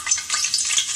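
Two or three bay leaves sizzle in hot oil for a prawn biryani tempering, a steady close crackling hiss with no voices.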